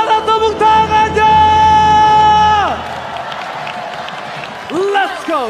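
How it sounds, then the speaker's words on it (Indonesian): Crowd at an EVOS Glory vs Fnatic ONIC Mobile Legends playoff match bursts into loud, sustained applause, cheering and whooping, with a whistle-like tone that cuts off midway, then the cheering swells again briefly near the end. "Champion Playoff, mana tepuk tangannya?"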